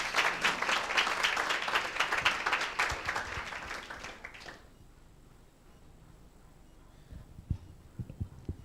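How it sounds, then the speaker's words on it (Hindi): Church congregation applauding during a worship service: loud, dense clapping from many people that fades out after about four seconds, followed by quiet room tone and a few scattered knocks and shuffles. "एक जोरदार ताली प्रभु के लिए।"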